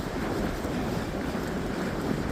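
Loud, steady wind on a chilly day on the Georgia section of the Appalachian Trail roars and rumbles across the microphone with no pauses, a constant blustery rush.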